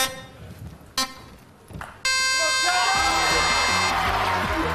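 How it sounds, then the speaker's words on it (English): Game show race start signals: three sharp electronic beeps spaced about a second apart, then a long sustained tone as buzzy electronic music kicks in loudly. "Here come the beeps."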